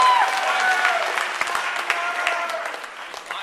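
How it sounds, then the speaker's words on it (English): Applause from a school audience at a Soph-Frosh SING! performance in New Haven, a dense, steady clapping crowd that fills the whole stretch and slowly tapers toward the end. "she deserves a really big round of applause"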